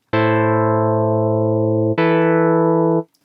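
Synth pad from FL Studio's Harmless synth through a crude low-pass filter: two loud, sustained harmonic chords, the second starting near two seconds, each with bright upper partials fading into a darker tone before cutting off.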